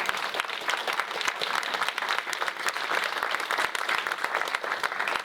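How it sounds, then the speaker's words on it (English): An audience at a Duluth housing forum applauds mayoral and city council candidates, a steady, moderately loud round of clapping from a room full of people, continuous and even for several seconds. "Let's please give our candidates a round of applause."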